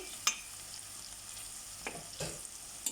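Dry fish chutney with green chilies sizzles steadily in a hot pan, with a few scraping clicks of a utensil stirring it at close range.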